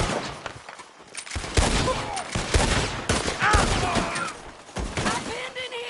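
Gunfire in a Red Dead Redemption 2 shootout at a house, with repeated shots cracking through a dense, busy mix of game sound and shouting voices.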